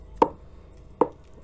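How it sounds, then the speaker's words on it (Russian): A knife works over pieces of smoked fat-tail lard to clear off excess salt, giving two short, sharp scraping strokes close up and about a second apart in a quiet room. "Сейчас мы лишнюю соль просто счищаем"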